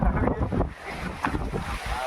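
Strong wind on a hilltop buffets a microphone with loud, gusty rumbling roars that rise and fall close by; a drone is being flown nearby.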